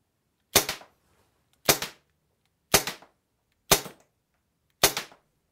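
A Crosman C41 CO2 airsoft pistol is fired at a target 30 feet away, five sharp, evenly spaced cracks about a second apart, each loud and close with a short decaying tail.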